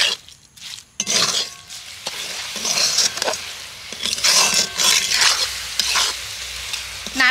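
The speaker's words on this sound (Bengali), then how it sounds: "ওই একই কড়াইতে আমি গুড় মেশানো নারকেলটাও দিয়ে দিচ্ছি আর সেমভাবে নাড়তে থাকবো।" A spoon scrapes and stirs grated coconut mixed with jaggery in a wok over medium heat, with soft sizzling and repeated scraping strokes close by, continuous throughout.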